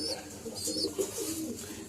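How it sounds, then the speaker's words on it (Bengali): Pigeons coo softly in a pigeon loft, a few low rolling calls spread across a short stretch, faint and close, with a voice speaking over them. "এই যে আপলুক দুটো। আর উপরেই আন্ধ্রা পায়রাটা ছেড়ে রেখেছি।"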